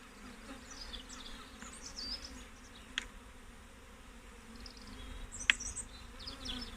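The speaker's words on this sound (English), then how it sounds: "we just shake the bees gently onto the top bars" A steady, moderate hum of many honey bees buzzing comes up close during a hive inspection, with a few sharp clicks of frames and hive tools over the drone.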